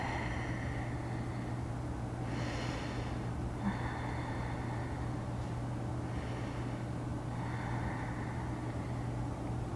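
Slow, deep yoga breaths during a held pose, two or three unhurried inhale-exhale cycles that rise and fade softly over a steady low room hum, with no speech.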